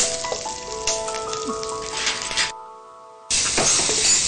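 Green chilies, garlic paste, curry leaves and ginger fry in a pan with a steady, close sizzling hiss that cuts out briefly, then returns loudly, over faint steady background tones.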